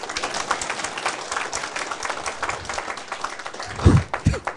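An audience claps and applauds at a political lecture, a dense patter of hands close by that swells and thins, ending in a few heavier thumps.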